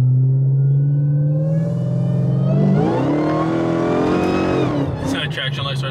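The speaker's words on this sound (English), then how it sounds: "Let me get on the open street and I could give it some more gas." A Chrysler 300 Redeye accelerates hard on an open street. Its engine note climbs steadily in pitch and loudness, then drops off near the end as the car shifts or lifts off, heard loudly from inside or close by.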